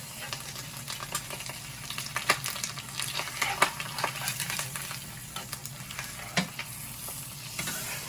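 Hot oil popping and spitting while fresh eggs fry in a pan, with a steady background sizzle broken by scattered sharp crackles and a few louder pops.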